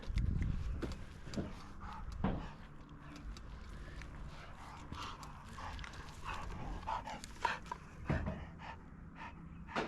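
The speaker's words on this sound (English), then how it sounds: "You're just a puppy, aren't you?" An elderly dog pants close by in quick, rhythmic breaths outdoors, with faint thumps and rustles scattered through the steady huffing.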